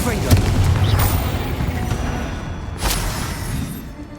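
Confringo fire spell blasting in the video game Hogwarts Legacy: a loud burst early on, then a second sharp explosive crack near the three-second mark over a dense, rumbling game soundscape, with no talk.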